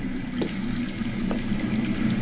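Water flowing underground in the Game of Thrones video game, a steady low rushing and trickling wash heard from a distance, with no talk.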